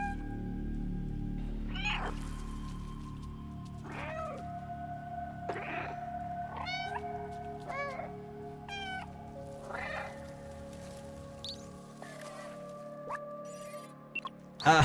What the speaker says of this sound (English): I was randomly doing it because I thought it would be cute if I meowed underneath this guy's legs